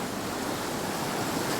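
Surf breaking onto a stormy beach at Hopton-on-Sea near Great Yarmouth, a steady broadband roar of rushing water mixed with wind buffeting the microphone, continuous and loud throughout.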